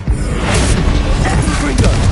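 An Incendio fire spell in Hogwarts Legacy roars out as a dense, loud, continuous whoosh of flame with rumbling low end, surging twice over two seconds amid busy combat noise.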